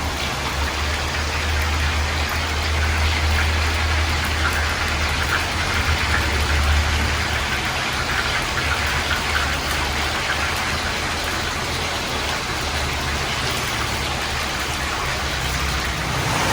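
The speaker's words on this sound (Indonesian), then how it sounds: "Hujannya lumayan besar" Heavy rain pouring outside a home kitchen, a dense, steady hiss with a low hum beneath, continuous and fairly loud with no talking.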